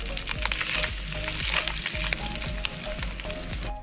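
Ginger garlic paste and browned onions frying in a pan for a quail curry, a close, steady crackling sizzle with small pops and stirring scrapes throughout.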